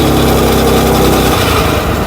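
A homemade tricycle with a 212cc engine revs hard and loud close by, a raspy small-engine roar that rises and then shifts in tone as it accelerates.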